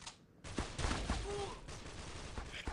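A rapid burst of gunfire from an HK rifle in the mobile shooter Critical Ops follows a short quiet lead-in, with dense, overlapping shots and fainter game sounds behind them.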